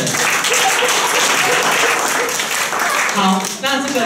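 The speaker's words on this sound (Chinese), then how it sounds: "那我们掌声谢谢阿峰" An audience claps to thank a speaker at a Taipei talk event, a dense, loud, steady burst of applause filling the room and tapering near the end.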